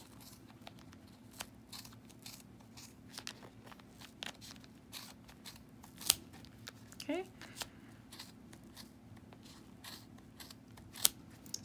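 Scissors snip through yarn wound on a Clover pom pom maker, a string of quiet, irregular crisp cuts close by, with a person speaking briefly.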